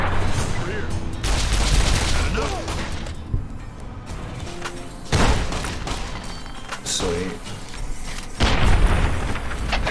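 Gunfire in the video game Fallout: New Vegas, fired during a hardest-difficulty clear of the NCRCF prison with a weak loadout: several loud shots and booming impacts arrive in irregular bursts while someone talks over them.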